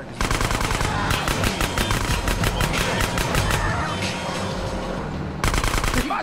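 Rapid automatic gunfire in Grand Theft Auto: San Andreas, loud sustained bursts of rattling shots with a short pause before another burst near the end.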